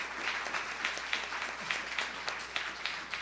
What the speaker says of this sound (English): we need to applaud ourselves for doing that.